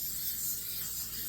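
Cooking spray hisses from a can onto a casserole dish in one short, steady, fairly quiet burst of airy spray close by.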